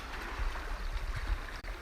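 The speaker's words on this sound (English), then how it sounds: "Where'd all these waves come from?" Water washes and laps around a fishing boat out on Lake Mead, a steady close rumble with small surges and no voices.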